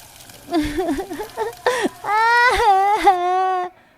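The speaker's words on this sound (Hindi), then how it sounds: "दोनों बच्चे रोते हुए" Two cartoon children cry and wail in a Hindi cartoon story, their high sobbing voices rising and falling in close, loud, overlapping moans that break off abruptly.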